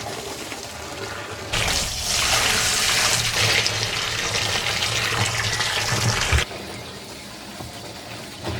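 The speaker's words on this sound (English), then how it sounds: "All right, let's fill this water up." Water gushes from a hose or tap into a container for backyard pigs, starting abruptly as a loud hissing rush and running steadily for about five seconds before cutting off.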